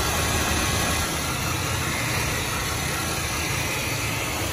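The 2.5 V6 engine of a 2003 Mercedes E240 automatic idles steadily, a constant loud, even hum with a broad hiss, heard alone without talk.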